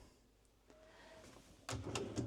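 Drawers on smooth guides slide and shut inside a 2023 Tiffin Phaeton 37BH motorhome, a quiet room tone followed by a sharper burst of several clicks and knocks near the end.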